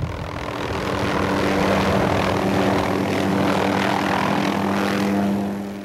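A helicopter flies during a bighorn sheep capture, its engine and rotor making a loud, steady roar that holds throughout and eases slightly at the end.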